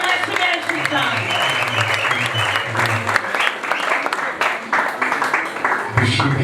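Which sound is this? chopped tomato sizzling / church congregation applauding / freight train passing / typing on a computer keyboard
church congregation applauding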